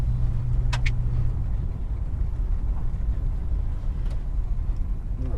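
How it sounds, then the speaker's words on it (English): Steady low peak-hour traffic rumble as cars pass along a road nearby, with a continuous engine drone and no talking. "Geez, there's a lot of cars coming up the line."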